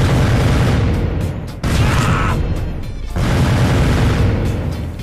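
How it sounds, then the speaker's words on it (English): A mini cannon fires in the Happy Wheels video game, producing loud, dense booming blasts in two or three sustained bursts with brief gaps between them. "Oh, mini cannon. I want to see mini cannon."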